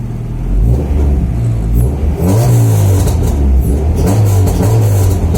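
A Honda Civic with an H2B engine swap, fresh off the dyno with a slightly high idle, runs loud and close, its engine note rising and falling through a couple of revs over a deep rumble.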